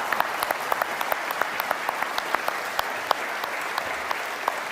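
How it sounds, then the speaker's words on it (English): Audience applause at a classic yacht symposium, a steady wash of many hands clapping at moderate distance, even and sustained throughout with no voices on top. "one more applause for that"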